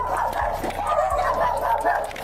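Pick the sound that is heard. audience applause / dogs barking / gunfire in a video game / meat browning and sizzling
dogs barking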